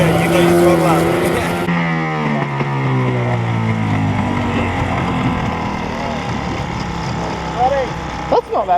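Small motor of a hand-built micro boat running steadily on the water, its pitch rising and falling with throttle changes, fairly loud and close with people talking over it.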